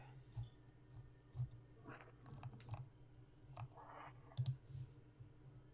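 Typing on a computer keyboard heard up close: sparse, irregular key clicks and taps come in small bursts over faint background hum, with no voices.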